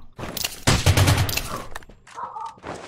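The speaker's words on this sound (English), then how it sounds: "Someone is shooting me." Bursts of gunfire from the video game Rules of Survival crackle close and loud, a rapid volley at first and then scattered shots, mixed with other game sounds.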